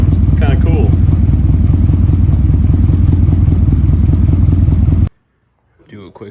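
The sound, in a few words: Nissan 240SX engine with ISR Series 2 exhaust revving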